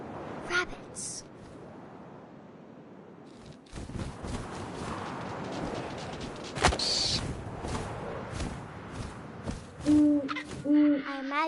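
Ambient night sounds and footsteps in the video game What Remains of Edith Finch give way to two low, hollow owl hoots near the end, with a voice speaking over parts of the scene.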